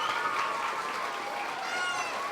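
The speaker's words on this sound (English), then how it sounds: "Can we have a big round of applause for her?" Audience at a school prefect induction ceremony clapping, a moderate steady round of applause with a faint voice and some tonal background sound mixed in beneath it.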